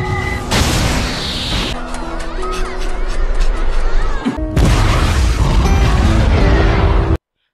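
A missile blast in an action scene: a loud, sustained explosive roar with crackling bursts and booming rumble, briefly cut off mid-way and then resuming at full force before stopping abruptly, over a dense mechanical and musical bed.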